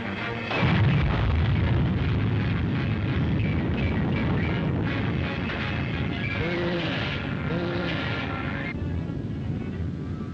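A rifle shot effect from an old radio adventure serial rings out as a loud boom over a dense, noisy broadcast background, followed by a sustained rumbling wash of sound.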